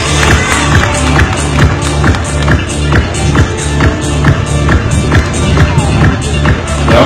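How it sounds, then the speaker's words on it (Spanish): A magic show audience at Castillo de Chancay claps loudly and steadily, a dense wall of applause mixed with crowd noise and a bit of cheering. "el público le regala el aplauso fuerte"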